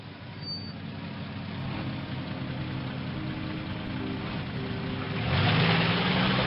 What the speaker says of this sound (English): The engine sputters, the old Jeep struggling to life as I pull away